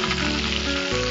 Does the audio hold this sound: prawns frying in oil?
yes